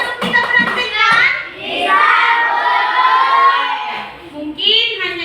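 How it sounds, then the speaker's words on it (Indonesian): Children in an Indonesian classroom clap and cheer together at the teacher's prompt, a loud burst of hand claps and excited shouting voices close by, with talk mixed in. "Tepuk tangan dulu anak-anak"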